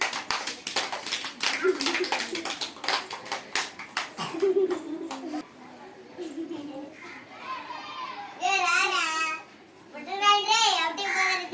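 Children clapping their hands in a classroom activity, a run of quick, sharp claps in the first half, then children's voices talking and calling out.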